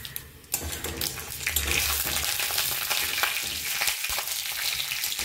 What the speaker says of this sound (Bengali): কড়াই গরম হয়ে গেছে, তেল দিলাম, শুকনো লঙ্কা ও কালো সর্ষে